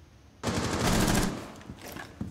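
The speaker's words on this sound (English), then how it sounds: "Go out to the balcony, shoot through the window." Sustained automatic gunfire from a Rainbow Six Siege match on the Coastline map: a loud continuous burst of rapid shots lasting about a second, then trailing off into scattered softer shots.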